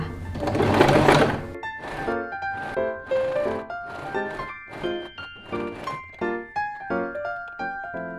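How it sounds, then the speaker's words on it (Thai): A sewing machine stitches the edge of a small handmade fabric bag. It starts with a loud whirring run, then continues in short rhythmic bursts of needle clatter and motor whine, close and clear. "เดี๋ยวเราจะมาเย็บขอบกัน"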